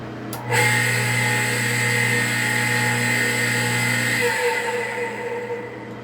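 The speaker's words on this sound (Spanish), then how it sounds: "Observen la bomba cuando yo la enciendo, el sonido que tiene." A new-generation Pedrolo-type water pump switches on with a sharp start and runs with a loud, harsh whine and rough hum. The tone shifts and eases slightly near the end, with no voices.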